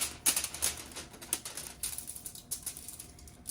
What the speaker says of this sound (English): So I'm going to cut some foil out.